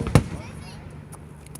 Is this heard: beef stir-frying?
no